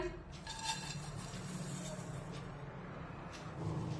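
Grated dry coconut roasting over a low flame in a kadhai, stirred with a spatula that scrapes and clinks faintly against the metal pan in quiet, irregular strokes.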